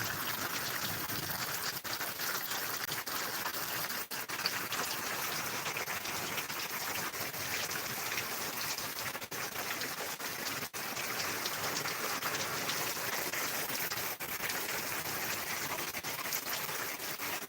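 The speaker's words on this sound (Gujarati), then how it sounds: "બહુ પવન સાથે વરસાદ ચાલુ છે" Heavy rain with strong wind pours down in a dense, steady hiss, with occasional sharper patters standing out from the constant wash.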